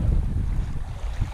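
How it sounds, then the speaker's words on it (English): Strong wind of about 18 mph whips across a lake with whitecaps near a kayak. Loud, low buffeting gusts and rough wave wash roar continuously close to the microphone, with no voices. "these waves are getting really aggressive."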